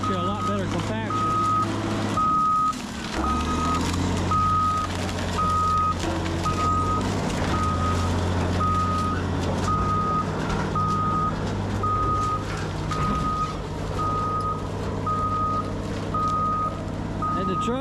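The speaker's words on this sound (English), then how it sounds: "the trucks just keep piling in here" Garbage trucks at a landfill rumble close by as one reverses with a loud, regularly repeating backup beeper, diesel engines droning and shifting underneath, with someone talking over the noise.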